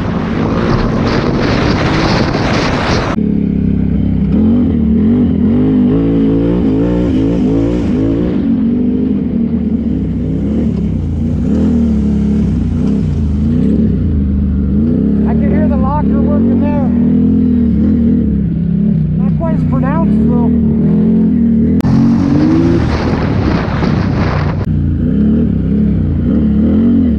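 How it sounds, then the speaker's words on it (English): A 2020 Can-Am Renegade XMR 1000R ATV engine drones and revs hard as its tires break loose, a loud sustained roar with rising surges and heavy wind buffeting on the microphone, and voices talking over it. "These tires are breaking free like it's just ridiculous"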